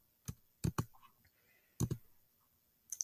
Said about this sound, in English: Sorry, doing some clicking here.